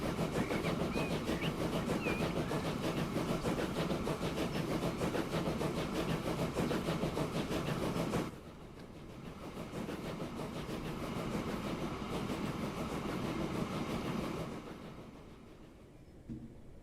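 A locomotive runs in the game Transport Fever 2, a dense rumbling rattle of rolling wheels and engine that holds steady, drops sharply halfway through, then continues more softly before fading.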